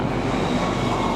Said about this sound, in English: There goes the airplane.